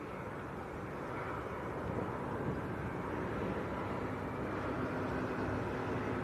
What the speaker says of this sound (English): Right, next departure, rolling away is EasyJet. A319 to Barcelona.